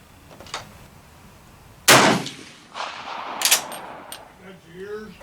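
A Swiss K31 rifle fired at an outdoor range: one loud, close shot with a long rolling echo, then a fainter metallic clack a moment later over low outdoor background noise.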